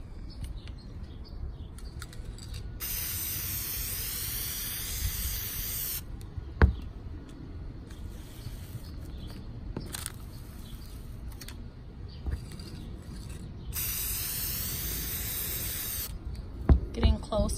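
Close, bright hissing bursts of aerosol spray paint coating a wine glass outdoors in a backyard, two long blasts separated by quieter stretches with occasional small knocks and faint outdoor background.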